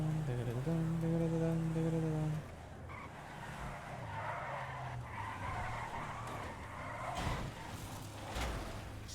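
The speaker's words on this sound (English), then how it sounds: "Oh, this car spins out hard." A car in the GTA V NoPixel driving game spins out, with a loud engine note followed by sustained tire squeal and skidding noise that rises and falls over several seconds.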